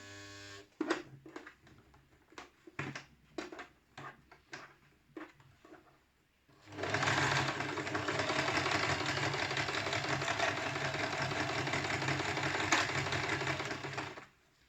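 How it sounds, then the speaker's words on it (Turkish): A Singer household sewing machine stitches cord to make a round table runner, opening with a few short separate bursts of stitching and then running steadily and loudly for about eight seconds before stopping. "Buradan siz iğneleyebilirsiniz açılma olmaması adına dikmeye başlıyorum"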